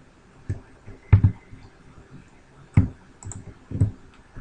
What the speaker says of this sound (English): just click here and your mouse pointer will turn into a hand symbol